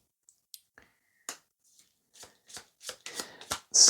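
A deck of tarot cards being shuffled up close, sparse soft flicks and riffles that grow denser and louder toward the end, with no talking.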